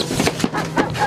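A dog gives a few quick, close barks and yelps in rapid succession, loud and slightly strained, over a noisy background.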